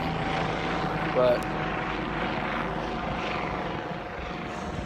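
An Army helicopter flies overhead, a steady distant rotor drone under brief talk, over a neighborhood affected by Northern California fires.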